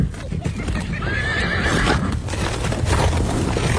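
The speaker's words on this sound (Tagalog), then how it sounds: "Sumakay ng kabayo." A horse gives a wavering neigh over the steady clatter of hooves clip-clopping nearby, with voices talking underneath throughout.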